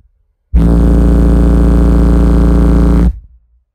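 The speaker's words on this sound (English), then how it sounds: "We're going to try a 57 hertz burp with the Term Lab." A 57 Hz bass burp from car subwoofers (412s) driven by a $75 Brand X 1910-watt amp: one loud, deep, steady droning tone lasting about two and a half seconds, heard alone with a brief rattling tail.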